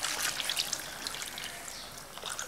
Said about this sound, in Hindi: और अब इसके अंदर हमने पानी शामिल कर देना है।